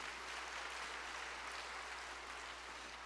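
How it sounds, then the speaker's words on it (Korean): A church congregation at a Sunday revival service claps together, a faint, even, continuous patter heard from a distance over a low steady hum. "우리 박수로 한번 격려해 주시면 좋겠습니다."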